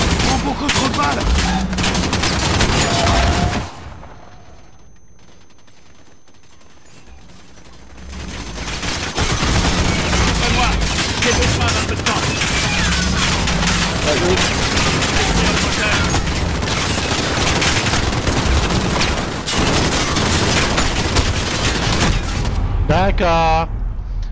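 Gunfire in Call of Duty: Modern Warfare, dense rapid bursts and fusillades that drop out for a few seconds before resuming loud and sustained, with players talking over the shooting.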